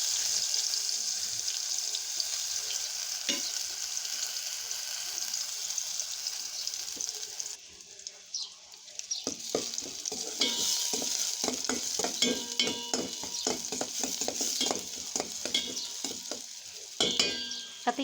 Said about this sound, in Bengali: রসুন আর পেঁয়াজ দিয়ে দিলাম